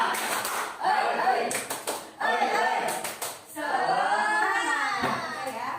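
Schoolchildren in a classroom perform a rhythmic spirit clap, with bursts of quick patterned hand claps separated by short pauses and with children's voices chanting and speaking over and between the clapping.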